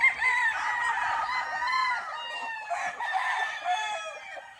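A gray straight-comb gamefowl rooster crows in a loud, drawn-out call at close range, with overlapping crowing and clucking from other fowl around it and no talk.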